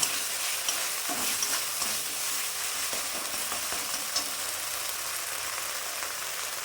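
Salted vegetables for neem shukto being stirred in a hot pan, a steady sizzle under soft, irregular scraping strokes of the spoon.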